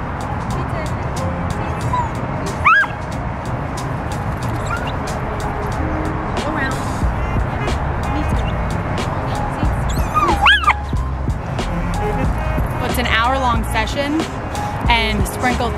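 A Belgian Malinois barks, yips and whines at close range during an exercise session, giving sharp, repeated yelps over steady background noise, with a person talking now and then.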